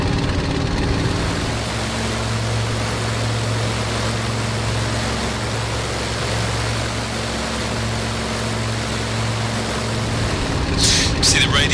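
Engine of a BF 109G-6 warplane in Microsoft Flight Simulator, a deep, steady, throaty drone that holds loud and unbroken throughout, with a brief rattle near the end.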